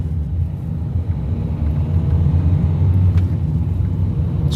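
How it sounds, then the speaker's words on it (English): A 2017 Citroen Berlingo van with an automatic gearbox drives along a road, giving a steady low engine and road rumble heard from inside the cabin, close and continuous with no gear-change breaks. "It is really strange not having to change gear in a little Berlingo van or partner van."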